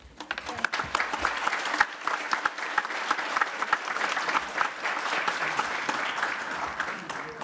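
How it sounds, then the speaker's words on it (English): An audience applauds panelists at the Tourism Expo Japan 2022 ministerial roundtable, with sustained, even clapping from a crowd of moderate size that continues throughout. "Please join me in giving a round of applause to our panelists."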